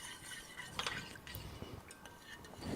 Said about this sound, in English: whisking this up